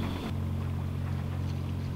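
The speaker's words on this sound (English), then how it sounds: "we're using our engines again" Engines of a sailboat motoring along a calm Bali coast, a steady low drone with a constant hum throughout, a brief shift near the start, no talk.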